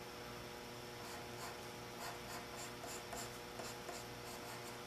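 Pencil sketching on paper, a faint close scratching of graphite strokes in short repeated bursts over a quiet steady background hiss.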